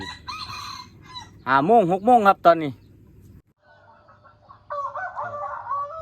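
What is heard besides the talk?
rooster crowing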